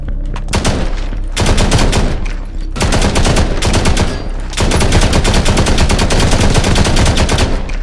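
Loud, close bursts of automatic gunfire in the Modern Combat Versus video game come in three long volleys separated by brief pauses.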